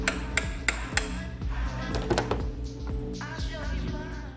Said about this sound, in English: we're going to take our adjustable hammer and just give her a little bit of tap